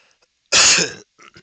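A single sharp cough from a runny-nose cold bursts out, followed by a couple of faint, short throat sounds.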